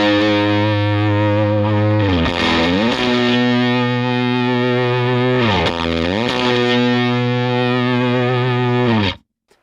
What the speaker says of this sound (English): Here's what it sounds like with the fuzz.